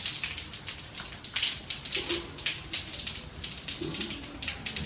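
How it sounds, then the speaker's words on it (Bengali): Water splashes and pours steadily as a house is washed down from top to bottom, a continuous hiss of falling spray with scattered drips and gushes close by. "এখন আপাতত একদম উপর থেকে নিচ অব্দি ধুয়ে কাজ চলছে জল পড়ছে বুঝতেই পারছো"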